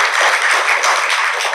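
An audience applauds a singer at a Maiyah gathering, with steady, dense clapping filling the whole moment at close range.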